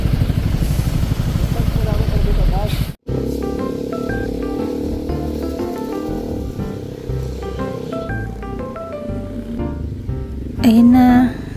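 A motorcycle engine running steadily up close with a continuous low rumble, in the Philippines as rain begins, while people talk over it in Filipino.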